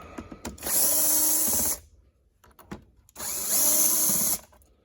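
A power driver backs screws out of the top cover of a Windsor Sensor XP12/XP15 vacuum, two sustained loud whirring runs of about a second and a half each, close up, with clicks and handling between.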